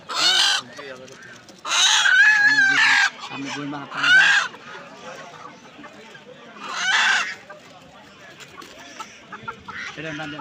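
Desi roosters at a chicken market give several loud, close bursts of clucking and squawking crowing calls, separated by short gaps, over a low background murmur.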